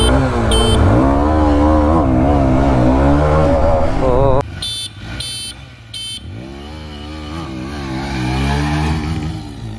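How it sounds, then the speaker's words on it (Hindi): A TVS Raider BS6 and a Honda Shine BS6 sit with engines running before a drag race; a short horn beep sounds early, then three quick beeps in a row over the steady engine drone. "हम लोग अभी 3 हॉर्न बजाते हैं"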